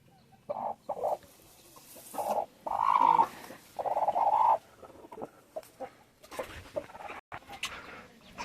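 Bhimavaram breed chickens cluck in short, loud bursts close by, repeating irregularly with brief quiet gaps and a few softer calls near the end.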